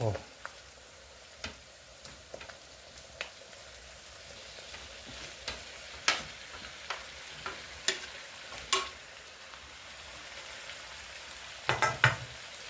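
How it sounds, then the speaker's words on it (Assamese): Boiled pork fries in a pan with spices, a soft steady sizzle broken by sharp ticks and clacks of stirring scattered throughout. "চ' এতিয়া মাংসখিনি দি দিওঁ ইয়াত।"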